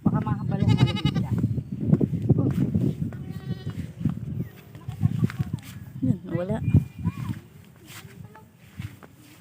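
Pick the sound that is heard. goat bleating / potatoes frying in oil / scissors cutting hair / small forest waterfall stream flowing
goat bleating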